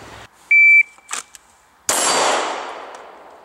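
A shot timer gives a short electronic beep at the start of a pistol draw from a holster at about seven yards. A metallic clack follows, then a sharp loud crack with a fading ring-out, and no voices.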